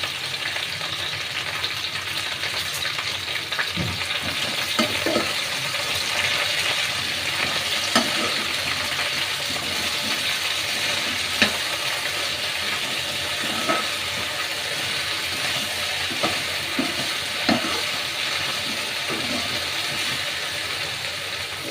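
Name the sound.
okra pieces frying and being stirred in pan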